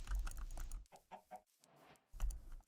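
Chickens clucking in short, scattered bursts with bits of other noise, followed by a brief quiet stretch, with no talking over them.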